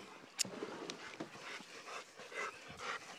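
A dog panting quietly after jumping off a dock at a dock diving event: soft, rapid breaths at close range with a brief sharp yip or whimper near the start, heard fairly faintly outdoors.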